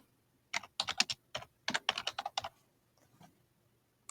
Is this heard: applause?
no